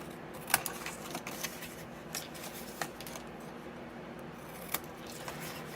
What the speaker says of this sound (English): I'm going to cut them, the little rectangles, off.